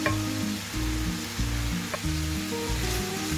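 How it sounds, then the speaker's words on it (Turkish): A meat filling with garlic fries in a pot for an eggplant dish, a constant close sizzle with stirring, while music plays throughout. "Sarımsaklarımın kokusu çıkana kadar biraz da sarımsaklarımla kavuracağım iç harcımı"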